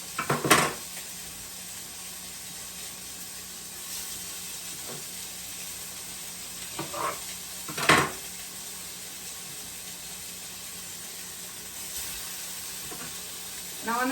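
Sausages frying in a hot pan, a constant thin sizzle throughout with a few sharp clatters of a utensil against the pan, close and moderately loud.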